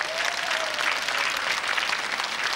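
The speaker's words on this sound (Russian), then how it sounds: "Аплодисменты Валерия!" Studio audience applause on a Russian TV quiz show, a dense steady clapping that fills the whole moment without a break, loud and close, with no voices over it.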